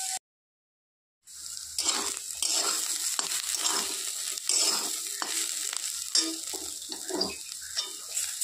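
Bottle gourd peel fries in a covered pan on medium heat, a steady close sizzle that starts after a brief silence, with occasional stirring clatter.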